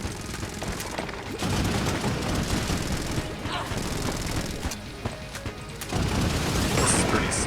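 Gore gun firing in the video game Enter the Gungeon, a dense continuous barrage of booming gunfire layered with game effects, loud throughout and briefly easing midway, with a voice talking over it.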